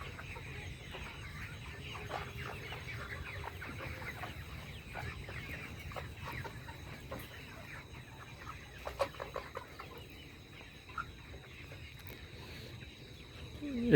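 Layer hens cluck and murmur inside a poultry house on a farm, a faint, busy chorus of overlapping calls over a low constant hum, with a few slightly sharper calls near the end.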